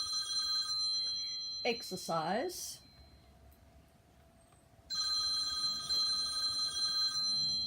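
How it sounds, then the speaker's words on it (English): A telephone rings in a home exercise session, bright trilling bursts at the start and again near the end, with a person briefly speaking in between. "Hold that thought while we answer the phone."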